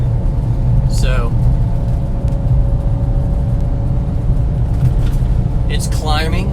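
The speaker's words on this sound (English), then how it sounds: "it's climbing in fourth gear, going up a steep hill." A Honda 4x4 Japanese mini truck climbs a steep hill in fourth gear, its engine droning steadily and loudly throughout, with someone talking over it.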